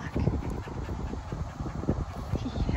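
A field golden retriever pants steadily close by, quick rhythmic breaths running through the whole stretch with no talk over it.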